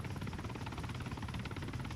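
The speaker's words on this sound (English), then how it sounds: "Helicopters." Helicopter from the Arma 3 video game flying steady and fairly close, a continuous rhythmic rotor thump with engine whine, loud throughout with no speech.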